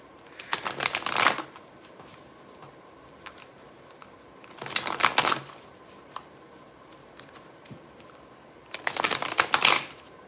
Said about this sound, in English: Let me shuffle 3 times.